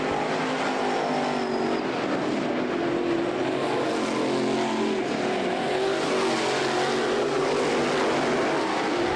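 Race cars roar around the track at the Ocala Winternationals at Bubba Raceway Park at night, a continuous loud engine drone with cars passing.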